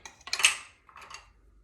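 Metal cutlery clinks as a teaspoon is pulled from a kitchen drawer while cooking: a quick cluster of bright jangles, a short pause, then a few softer clicks, close and fairly quiet.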